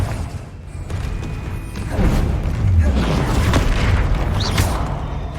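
A Confringo spell explosion in the video game Hogwarts Legacy, a deep rumbling boom swelling up with a whooshing burst and lingering low roar over a busy spell-battle mix.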